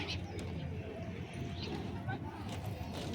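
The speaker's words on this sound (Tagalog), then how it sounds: "Tapos, ang daming ibon doon." Pigeons coo softly on a boulevard in Qatar, their low calls half buried under steady outdoor noise and nearby voices talking.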